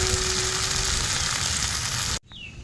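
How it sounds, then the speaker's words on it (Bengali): Cumin seeds sizzle in hot oil while soya tikka masala is being made. A loud, steady crackling hiss runs close and continuous, then cuts off abruptly near the end. "তেল গরম হয়ে গেছে, দিয়ে দেব জিরে"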